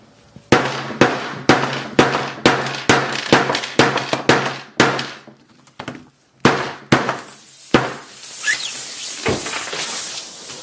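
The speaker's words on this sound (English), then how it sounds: "I'm just going to hammer this guy all the way to its death." A hammer strikes a Samsung Galaxy S5 phone again and again in sharp, loud cracking blows at an irregular rhythm, followed by a hissing burst from the phone's battery.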